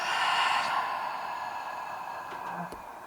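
One long, breathy exhale, close and steady, tapers off over about three seconds, with no talk.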